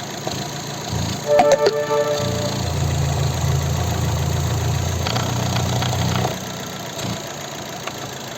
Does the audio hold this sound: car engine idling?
yes